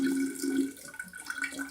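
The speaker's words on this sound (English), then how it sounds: "So I'm going to add some filtered water in here." Filtered water pours into a jar for a batch of water kefir, a soft close trickle with a faint ringing tone from the filling glass, tapering off by the end.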